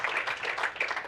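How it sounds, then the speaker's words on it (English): Audience clapping during a talk event, a short burst of several hands clapping in quick uneven rhythm, fairly close and moderately loud. "Oh yeah, clap it out"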